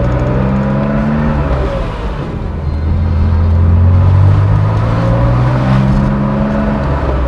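A 1977 Porsche 911 S engine drones loudly from inside the car on a test drive, a continuous low hum that rises and falls gently in pitch as the car accelerates and shifts.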